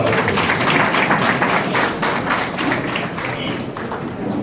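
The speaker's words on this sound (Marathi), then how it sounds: "आपण सगळेजण टाळ्या वाजवून" A crowd at a political gathering applauds the arrival of MLA Prashant Thakur, a dense, steady patter of many hands clapping that eases slightly toward the end.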